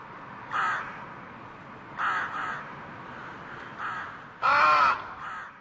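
Crows caw in a series of harsh, rasping calls, about five bursts spaced irregularly, the last one loudest and nearest, with quiet between them.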